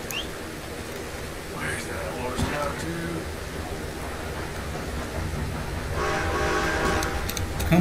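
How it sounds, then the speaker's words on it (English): A train in the video game Red Dead Redemption 2 rumbles past, its horn sounding midway and again near the end, growing louder as it approaches, while a voice talks over it. "one train just came"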